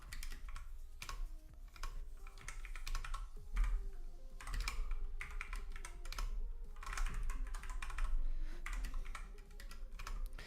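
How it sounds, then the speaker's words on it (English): A computer keyboard tapped in a steady, continuous run of soft keystroke clicks, quiet and close, with no talking. "I have some problem typing"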